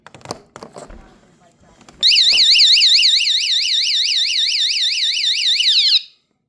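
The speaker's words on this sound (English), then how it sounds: "let's show you ultimately what the alarm sounds like. It's very, very loud." A very loud, shrill electronic pool alarm, triggered by a door opening, warbles in a rapid up-and-down pattern for about four seconds after some brief handling noises, then cuts off.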